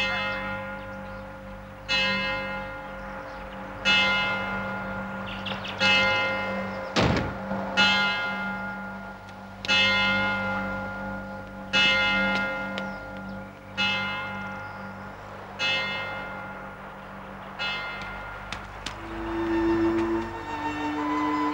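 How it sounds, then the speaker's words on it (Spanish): A church bell tolls repeatedly at a slow, steady pace, each strike ringing out and fading, with a low hum underneath. "no oye la campana."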